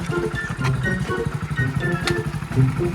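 A motorcycle engine idles close by with a steady, throbbing low rumble that holds for the whole stretch, with a little mechanical clatter.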